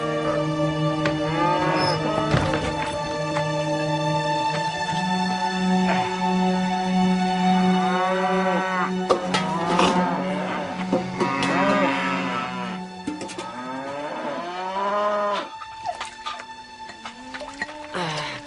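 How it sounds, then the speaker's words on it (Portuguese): Several cows moo in long, drawn-out calls while being herded on a farm, with low bellows repeating throughout and some overlapping close by. "Vacas! Vamos, andem logo!"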